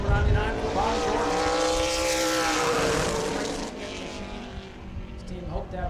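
Number 99 Super Late Model race car on a qualifying lap at New Smyrna, engine roaring loud and close then fading as it passes, with a commentator talking over it.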